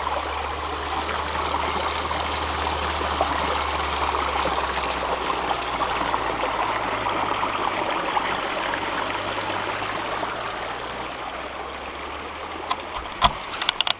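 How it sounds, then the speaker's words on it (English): A flowing creek and waterfall rush steadily and loudly from nearby, a constant, even watery roar with a few faint clicks and knocks near the end. "I'm just going to take a walk over to the creek and get some water."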